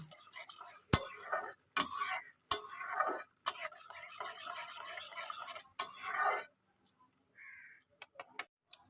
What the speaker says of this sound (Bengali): যে মশলাটাকে কিন্তু তেলের সাথে একটু ভালো করে কষিয়ে নেব